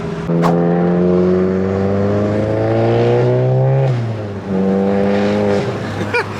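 A loud, raspy modified Volkswagen GTI engine with an IS38 turbo drones and climbs in pitch, drops off briefly, then revs again, close by and dominating.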